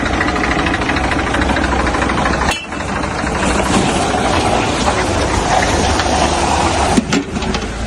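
A tractor engine idles steadily at close range, a continuous dense rumble with a brief dip near the middle and a small knock toward the end.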